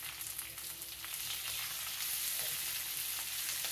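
Two medium onions, finely sliced, fry in ghee with garlic and green chillies for garlic ghee rice, giving a steady, soft, close sizzling hiss that grows slightly fuller and carries on without speech.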